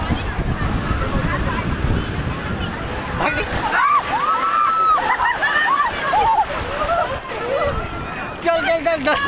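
Sea waves on Puri's Golden Beach wash and splash onto the shore in a continuous roar, with wind buffeting the microphone. Voices of people talking and calling are heard over the surf.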